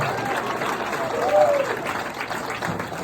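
Audience applause for the band at a community gathering, moderate and continuous with a voice briefly audible over the clapping.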